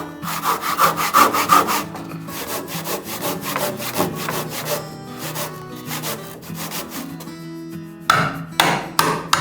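A hand saw cuts into a knot-free cypress wood pillar in a Japanese house floor frame, with steady rhythmic back-and-forth strokes, close and clear, a short pause, then sawing resumes more forcefully; no voices.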